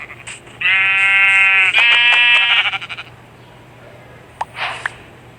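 A loud, drawn-out bleat from a Minecraft sheep, buzzy and wavering, followed by a couple of short clicks.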